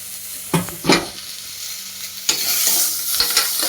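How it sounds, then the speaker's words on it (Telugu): Mutton bones, including legs and head pieces, fry and are stirred in a pan for soup, giving a steady broadband sizzle with a few louder scraping stirs near the start and a denser burst of frying in the second half, with no talking. "ఇలా బోన్స్ అన్ని వేయించుకున్న వేసుకున్న తర్వాత ఇలా ఒకసారి బాగా కలుపుకోవాలి"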